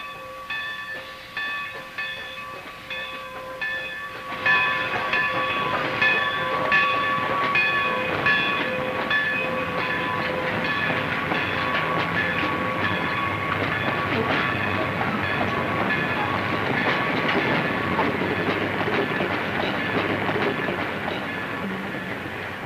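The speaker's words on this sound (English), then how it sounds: "Hey, the train." Rhythmic clicking of wheels over rail joints gives way to a loud, continuous roar as a train passes close by for a long stretch.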